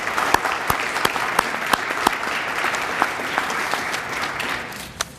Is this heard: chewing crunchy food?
no